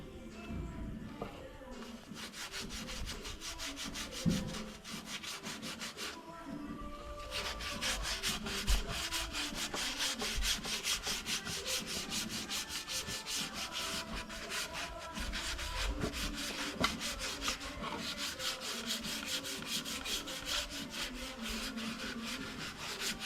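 Steady hand sanding on wood while fitting out a catamaran under construction, a continuous rhythmic rasping scrape with repeated back-and-forth strokes, close and moderately loud, with a brief pause early on.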